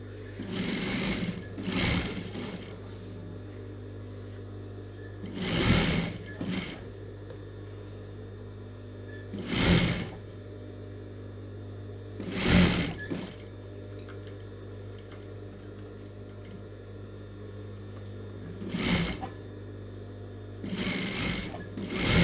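A sewing machine stitches a patch onto a blouse in short, loud bursts of rapid mechanical clatter separated by pauses, over a steady low hum.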